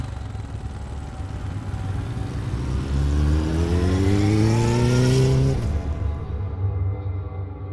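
A motorcycle engine starts and revs up, its pitch climbing steadily for a few seconds before dropping off abruptly, over a steady rumbling background.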